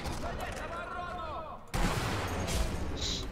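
Sniper fire in the video game Sniper Elite V2: a sharp rifle crack with a loud impact burst midway through, over game ambience and a brief tonal effect.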